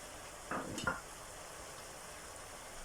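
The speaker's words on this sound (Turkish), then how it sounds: "yeşil biberlerimizi içine atıyoruz ve karıştırmaya devam ediyoruz." Soft sizzling in a pan with a couple of brief scraping stirs near the start as green peppers are added to frying chicken and red peppers, then a quiet steady frying hiss.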